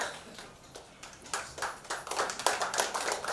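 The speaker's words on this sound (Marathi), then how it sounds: "तर एकदा आपण टाळ्या वाजवूया." An audience claps at a launch event for a Marathi film's haldi song. The applause starts thin and scattered, then builds into denser clapping, with moderate loudness in a hall.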